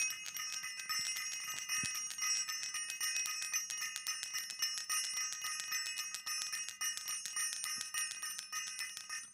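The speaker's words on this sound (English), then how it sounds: "I want to ring the bell" Bell rung repeatedly at a livestream gathering, a bright sustained ringing with rapid continuous strikes that stays loud and steady throughout, with no talking.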